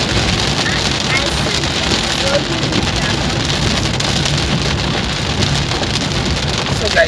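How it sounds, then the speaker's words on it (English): Heavy rain pours steadily and loudly onto surfaces, a constant dense hiss filling the whole stretch, with a voice speaking faintly underneath. "So guys, it's raining heavily here."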